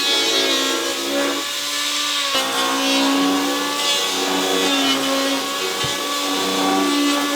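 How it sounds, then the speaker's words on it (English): A power planer shaves the high spots off the tops of deck joists, giving a steady, loud motor whine with a continuous rough cutting roar that shifts pitch slightly as the tool moves along the wood. "he's taking a power planer and he's shaving the tops of the high spots of the joists"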